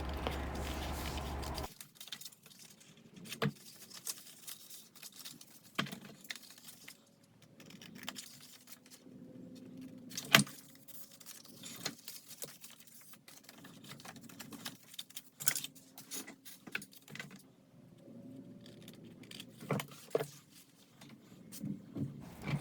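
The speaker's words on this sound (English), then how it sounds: "then I will use my scissors to cut around that score" Scissors cut paper along a scored line in a quiet room, giving soft, irregular snips and rustles spread across the stretch with brief pauses between cuts.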